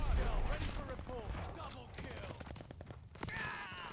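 Bursts of Marco 5 SMG gunfire in Call of Duty crackle amid busy in-game noise and effects, with someone talking over much of the firing.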